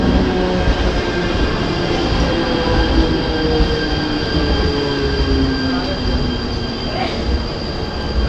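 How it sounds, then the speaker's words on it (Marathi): A crowded early-morning local train to Virar pulling into a Mumbai suburban station, a loud continuous rumble of wheels on rails with metallic squeals, heard up close from the platform. "पाच वाजून चार मिनिटांची विरार जाणारी ट्रेन येते"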